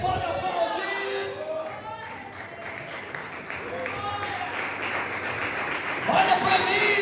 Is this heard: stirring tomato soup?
no